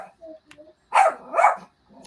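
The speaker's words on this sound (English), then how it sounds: "The dog is having a meltdown." Dog barking indoors in a home: a few soft sounds, then two loud, drawn-out, whiny barks close to the listener, then a short quieter yelp, with no speech.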